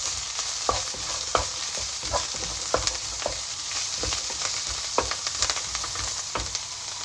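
Butter chicken sauce with turmeric and food colour being stirred in a pan over a steady sizzle, the spatula knocking and scraping in a loose, regular rhythm, close and clear with no voices.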